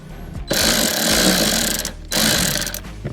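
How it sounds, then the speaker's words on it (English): A power tool loosens seat bolts on a 2024 Toyota Tacoma: two loud, continuous whirring bursts with a short gap between them, close to the listener, with no talk. "next we're going to have to loosen these bolts up right here"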